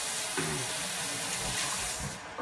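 Cold tap water runs steadily into a kitchen sink as an onion is rinsed, a continuous close hiss and splash with a brief clatter partway through.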